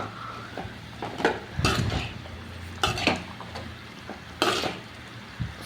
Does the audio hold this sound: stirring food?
yes